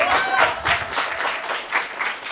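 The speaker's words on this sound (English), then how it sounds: "You can clap for that." Audience applause at a comedy show, a few seconds of steady, fairly loud clapping from the crowd with no talking over it.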